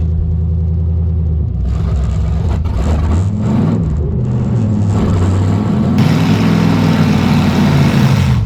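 An old custom Chevy C10 Suburban with dragging brakes idles and then reverses. Its engine makes a loud, close, low rumble that rises with light revving and mechanical clunks, and no one speaks.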